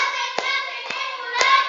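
A group claps hands on command during a classroom or training game, three sharp separate claps spaced roughly half a second apart over a steady background hum.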